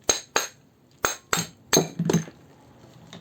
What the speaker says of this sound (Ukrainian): Зараз хочу витягнути. От Не так просто витягується, треба трошки підстукати.